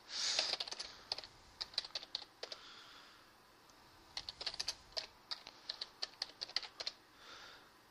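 Typing on a computer keyboard while starting the 1985-era computer game Ultima IV: a quiet run of irregular key clicks, a dense burst at first, then scattered taps and quick clusters, close and alone with no talking.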